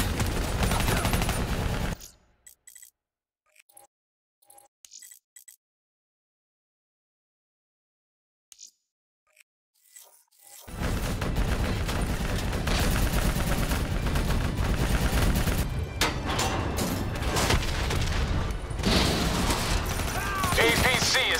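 Heavy gunfire aimed at a VTOL aircraft and an armored APC in Call of Duty Black Ops 3, loud and dense at the start. A long silent gap follows, then a sustained loud barrage returns.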